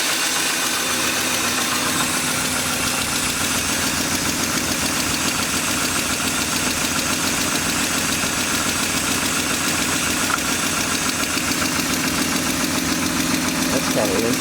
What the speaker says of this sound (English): Well, it's cranked. Got a little lifter chatter,